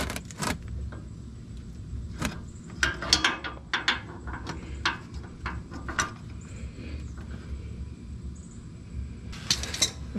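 Channel lock pliers work loose a part under a 2021 Ford Bronco with a 2.7 engine during an oil change: scattered sharp metallic clicks, taps and rattles in irregular bursts close to the microphone, with no voices.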